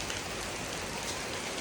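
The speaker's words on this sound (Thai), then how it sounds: "คันว่าฝนยังบ่เซาตกกับมื้อนี้" Steady rain falls in a dense, even hiss of drops on surfaces, moderately quiet and continuous for a brief moment with no voices.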